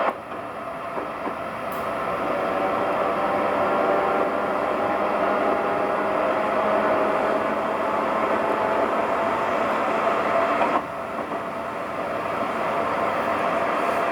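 An Amtrak ACS64 electric locomotive running, a loud, continuous rumble and rail roar that holds steady throughout, with a brief sharp change near the end and no talking.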